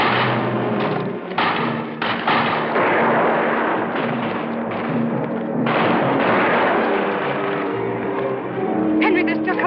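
Rifles fired in volleys during a 1962 period battle scene, a dense run of loud gunshots and thuds layered over shouting voices and commotion.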